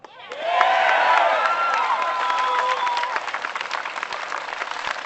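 Tea Party rally crowd breaking into loud cheering and sustained applause, with whoops and shouts rising over dense clapping that holds steady, then thins slightly toward the end.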